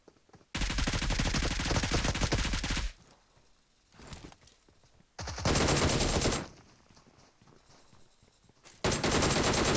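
Loud bursts of automatic gunfire from the battle royale game PUBG Mobile, two long sustained volleys and a third starting at the end, separated by quieter gaps with a few scattered shots and movement.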